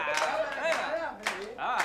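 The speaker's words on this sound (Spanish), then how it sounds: "Por favor, a ver, hermanitos, hagan palmas." An audience at an Argentine worker cooperative gathering claps along in a slow, steady rhythm, about four claps, beneath a prominent singing voice.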